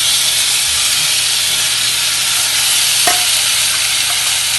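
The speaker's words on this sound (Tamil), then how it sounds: "வடகம் நல்லா பொரிஞ்சிட்டு நம்ம ஒன்றும் பாதி அரைச்சி வச்சுக்கிற இந்த பூண்டை இதில் போட்டுருவோம்." Garlic and vadagam frying in hot oil give a loud, continuous sizzle and hiss, with a brief stir or clink midway through the steady crackle.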